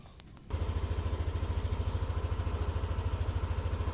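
A Yamaha NMAX scooter engine starts up and settles into a steady, close idle with a regular low putter that continues without talk.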